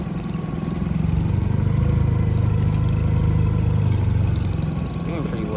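A new outboard motor drives a boat at slow speed, its steady mid-pitched engine drone running continuously and fairly loud over water, then easing slightly near the end.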